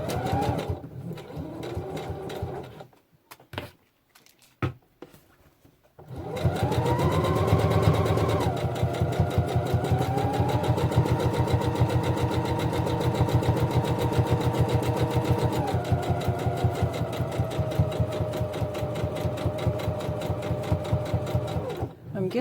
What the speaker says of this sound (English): I put the presser foot along the raw edge when I sew, and I make sure I fasten the seam at the top